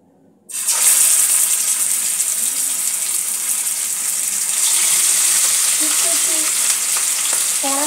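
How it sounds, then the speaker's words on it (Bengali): Katla fish pieces fry in hot mustard oil in a kadai, giving a loud, steady, hissing sizzle that runs unbroken throughout. Faint utensil clinks appear near the end, with no talking. "কড়াতে আমি পরিমাণ মতন সর্ষের তেল দিয়ে দিয়েছি। মাছগুলো এবার এক এক করে ভেজে নেব।"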